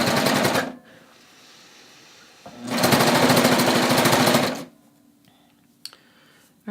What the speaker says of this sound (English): I'm going to serge until I cut off the tail